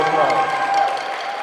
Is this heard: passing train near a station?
no